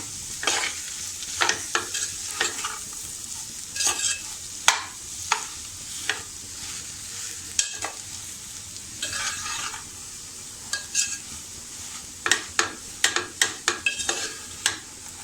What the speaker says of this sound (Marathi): आता ही भाजी सुद्धा आपण अशी व्यवस्थित अशी ढवळून घेऊया